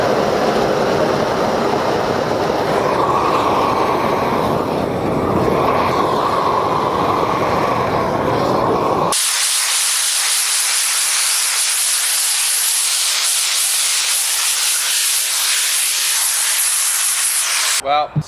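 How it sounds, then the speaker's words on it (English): A flamethrower roars as it dries rain-soaked wood on a cabin wall build. A rumbling, breathy blast gives way halfway through to a sharp, bright, steady hiss that runs loud and continuous almost to the end. "to speed the drying process up, I'm gonna take a flamethrower to it."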